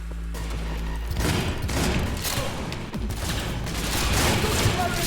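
Shotgun blasts in Cyberpunk 2077 come in a dense, loud burst of booming shots over continuous game noise and clutter, with a voice talking beneath.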